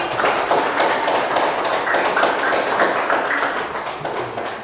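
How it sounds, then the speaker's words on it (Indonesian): Classroom of students clapping for a classmate, a dense, steady patter of many hands held at even loudness for several seconds, fading slightly at the end. "Tepuk tangan untuk Adi."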